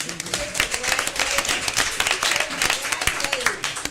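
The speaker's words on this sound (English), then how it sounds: "Let's clap on that." A room full of people claps together at a city commission meeting in Pahokee, Florida, producing a steady, dense patter of applause that holds for a few seconds while someone speaks over it.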